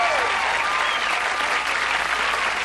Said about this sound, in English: That's way too much applause, really.